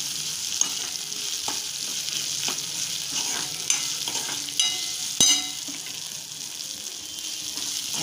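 Okra sautéing with roasted green chili thecha in a hot pan: a steady, close frying hiss with occasional soft scrapes and clicks of a spoon stirring, no voices.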